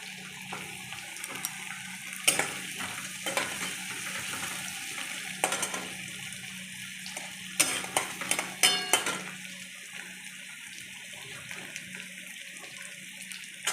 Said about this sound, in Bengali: আমি এবার ক্যাপসিকামটা দিয়ে দিলাম।